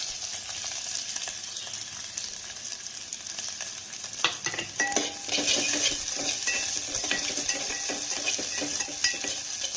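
Onion dropped into hot oil with cumin seeds hisses up sharply partway through, turning a quieter sizzle into a loud, crackling fry with stirring clinks close by.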